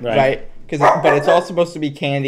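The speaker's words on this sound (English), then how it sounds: "I'm sorry for the barking." A puppy barks indoors while a person talks loudly and close over it, the barks partly buried under the voice.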